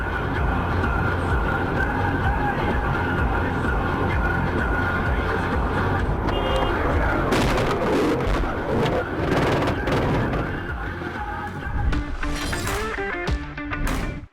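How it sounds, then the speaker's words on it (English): A car crash recorded from a dashcam: steady road rumble gives way to sudden sharp impacts and clattering, crunching debris in the final seconds. "This crash is straight out of an action movie."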